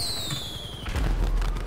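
Fireworks explode in the video game GTA V: a descending whistle gives way to booming, crackling bursts over a dense, noisy game soundscape.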